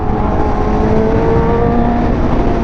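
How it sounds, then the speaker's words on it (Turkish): Steady 1000cc motorcycle exhaust drone with wind rush throughout while riding, a continuous motor roar up close with no breaks or speech. "Ama o rüzgara rağmen şu egzozun sesini duyuyorsunuzdur."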